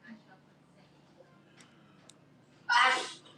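A single sharp sneeze bursts out near the end after a quiet stretch with faint ticks and murmurs.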